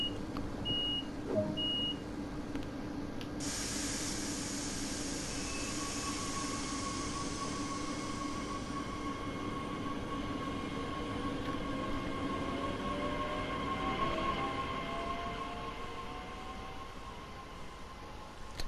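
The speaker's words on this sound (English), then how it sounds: "Tube train." A tube train in Train Sim World 2 hums and rumbles steadily, with a few short warning beeps near the start, a sharp door-closing burst, then a rising whine of the motors as it pulls away; no talk.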